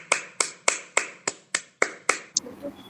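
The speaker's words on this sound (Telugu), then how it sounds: "ఒకసారి సందీప్యాకి అందరూ క్లాప్స్ కొట్టండి" Children in a Sunday class clap in unison, eight crisp, evenly spaced claps in a steady rhythm, close and loud, followed by a faint murmur.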